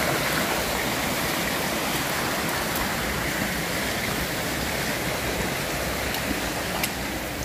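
A river runs beside the Kawah Ratu hiking trail on Mount Salak, its water turning milky white rather than clear. It rushes in a steady, broadband flow, close and unbroken throughout, with no voices.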